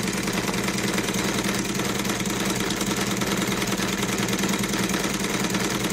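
A Cosmo vertical steam engine with gear drive runs steadily and loudly with a constant rhythmic chugging and knocking, unbroken by voices from start to finish.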